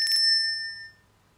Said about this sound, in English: there we get our bell